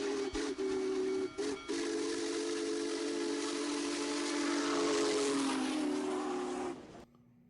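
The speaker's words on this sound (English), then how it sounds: "I really enjoyed catching the steam engine" The whistle of steam locomotive Canadian Pacific 2816 blows long and loud, briefly broken at the start, then holds a steady wailing tone before cutting off, with rumbling train noise beneath.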